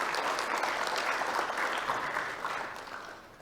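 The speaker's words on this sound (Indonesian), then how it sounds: "Mari kita beri aplaus untuk Ibu Ketua" An audience at an open senate meeting of STFT GKI I.S. Kijne seminary in Jayapura, 2021, applauds the chairwoman: dense, steady clapping from many hands that fills the room, then gradually thins and fades toward the end.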